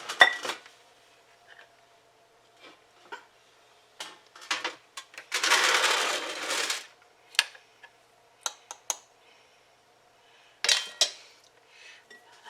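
Leftover meatloaf is set onto a metal sheet pan, making scattered light clinks and taps and one brief rustling scrape, all quiet and close with pauses between.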